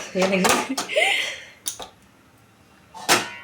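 A frying pan clanks down onto a gas stove in a kitchen, a few sharp metallic knocks and scrapes, followed by another clatter after a short pause.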